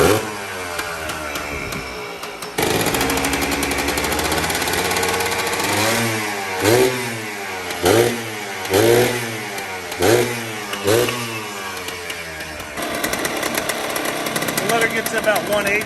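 A Yamaha Blaster ATV engine with an exhaust leak at a gasket idles with a rough, raspy edge, then revs in several sharp bursts before settling back to a ragged, sputtering idle.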